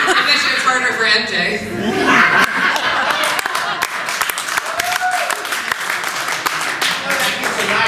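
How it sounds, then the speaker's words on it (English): Audience applause rises at a debate held in Beertown, a dense steady clatter of many hands mixed with scattered chuckles and laughter, with talk running through it. "That gets a nice round of applause"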